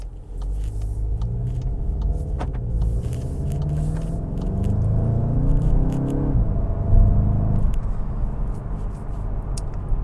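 A 2022 Volkswagen GTI Mk8 in sport mode accelerates on the Autobahn, a steady engine drone rising in pitch beneath heavy road and cabin rumble, heard continuously from inside the car.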